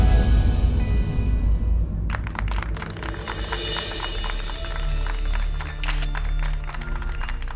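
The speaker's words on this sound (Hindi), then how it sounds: "आप ही के लिए ताली बज रहा है।" A police station crowd claps in sustained, dense applause that starts abruptly about two seconds in and continues steadily to the end after a quieter, low rumbling opening.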